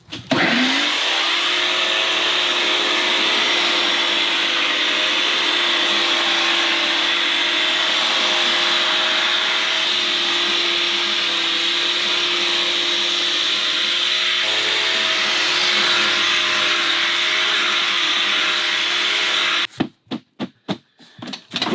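A machine trims tobacco seedlings in a growing tunnel, giving a loud, steady motorized whir with a constant hum for about twenty seconds. It then cuts off into a few short, uneven bursts.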